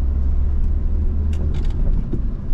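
A car under a learner driver's control accelerates and shifts into third gear, a close, steady low engine rumble heard from inside the cabin, without talk.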